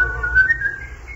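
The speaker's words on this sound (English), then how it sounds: "He whistled as he thought of the gold that he had" A man whistles a short, clear, steady tone, close and fairly loud, sliding slightly in pitch over about a second, with no other voices.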